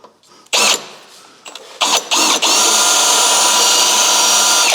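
A step drill bores a hole during a water-meth kit install on a car, with short bursts of a loud power drill followed by a long continuous whirring run.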